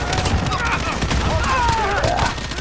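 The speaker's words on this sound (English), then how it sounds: "That guy was shooting at his own teammates." Constant automatic gunfire from the video game Modern Warfare on the Shipment map, dense and overlapping, with muffled explosions, while someone talks over it.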